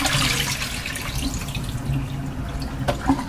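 Water emptied out of a bowl after rinsing chicken wings at a sink, a continuous splashing gush that tapers into drips and a couple of light knocks near the end.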